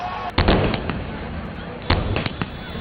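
Gunfire during a police crackdown outside the Satlok Ashram in Barwala, Hisar: a few heavy, muffled bangs and pops rise over a dense, noisy crowd, with voices present.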